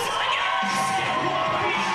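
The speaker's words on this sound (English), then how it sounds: "And no one can fire up a crowd like these two. Oh, absolutely. The crowd is definitely into it." A wrestling arena crowd cheering and shouting continuously at a steady, full level, loud and close, with no pauses.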